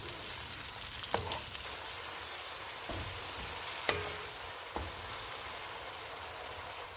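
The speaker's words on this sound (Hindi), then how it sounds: "दो 250 ग्राम टमाटर डालेंगे। इनको 2 से 3 मिनट तक भूनेंगे।" Tomatoes fry in a karahi with a soft, steady sizzle, and a few sharp utensil clinks against the pan break through it, all fairly quiet.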